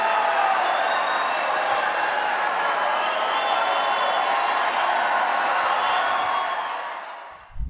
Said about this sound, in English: That is a long, long, long round of applause and standing ovation.